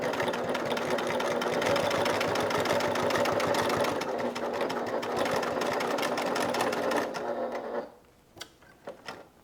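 A sewing machine stitches a crossbody bag in one long steady run of fast rhythmic whirring, close and loud, then stops near the end, leaving a few small clicks and handling sounds.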